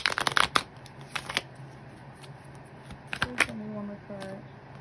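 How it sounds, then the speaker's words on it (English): Tarot cards shuffled by hand for a card reading, crisp close riffling bursts at the start and again later, separated by quieter handling, with a voice speaking between the bursts. "I'm gonna pull one more card."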